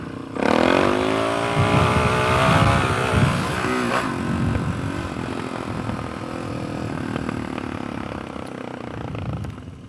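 A knobby-tired dirt motorcycle in first gear revs hard for a wheelie, a loud close engine roar that climbs sharply, then holds a raspy sustained drone before easing off.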